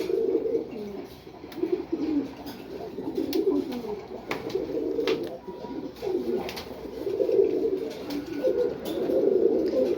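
Racing pigeons cooing steadily and close by, soft overlapping calls rolling on without pause, with light rustles and pecking as they feed.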